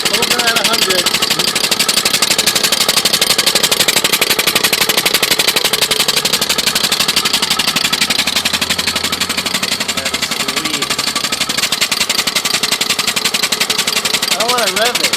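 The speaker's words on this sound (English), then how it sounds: "Steam engine. That's awesome." A lawn mower engine converted to run on steam, fed at about 100 of pressure, chugs in a rapid, loud, steady rhythm close by throughout, with faint voices beneath it.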